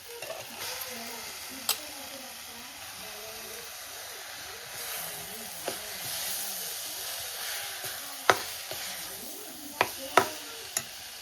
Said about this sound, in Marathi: आता आपण मशरूम टाकून घेऊया.